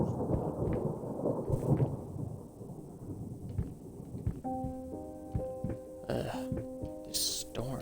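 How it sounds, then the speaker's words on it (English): Thunderstorm with deep rolling thunder and steady rain noise, loud and close at first, later joined by tonal clattering and sharp knocks. "This storm."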